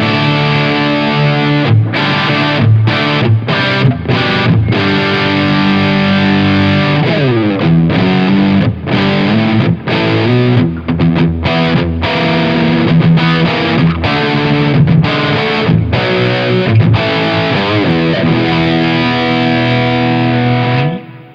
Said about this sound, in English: Already a pretty dark distortion